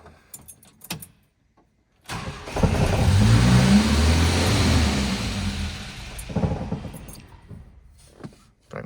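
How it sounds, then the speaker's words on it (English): A 1966 Volvo 122 with a new fuel tank and lines being cranked: a few scattered clicks and clanks, then the engine catches and revs loudly for several seconds, settles, and rises in another short rev before stopping. "Probably gonna take a little cranking to get the fuel pump to pump all the way up to the carburetors."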